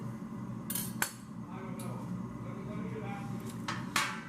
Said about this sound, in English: Okay, so I'm going to get a little sheet pan.